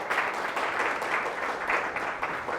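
A church congregation claps loudly together in praise, a dense, steady wash of applause lasting a couple of seconds.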